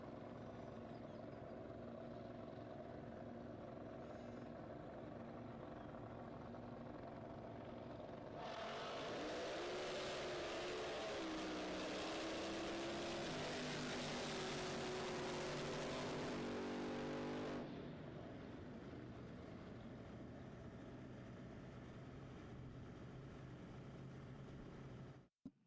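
Drag racing cars on a qualifying pass at an NJBA season opener, a steady far-off engine drone suddenly swelling into a loud, full-throttle roar for several seconds, then dropping back to a distant rumble.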